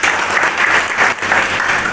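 Dense, steady applause from a large audience at a public gathering in Rairangpur, Odisha, a continuous loud wash of many hands clapping with no pauses for the full two seconds.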